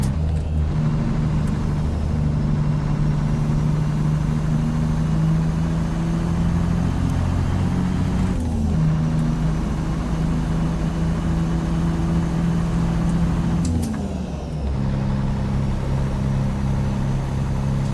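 A Caterpillar C15 truck engine in American Truck Simulator drones steadily with a deep, constant hum, the pitch dipping briefly twice as with gear shifts, loud and continuous with no talk.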